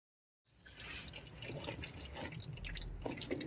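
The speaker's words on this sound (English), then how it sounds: "on the left side, you see the transmission fluid is coming out, and it's a nice steady stream" Transmission fluid drains from the pan of a 2001–2007 Dodge Caravan in a steady stream into a drip pan below, giving a continuous close trickling and splattering with no talk.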